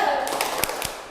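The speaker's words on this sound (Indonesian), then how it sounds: "tepuk semangat." A group of young children in an early childhood classroom doing a rhythmic spirit clap, a few sharp claps in quick succession under a teacher's voice.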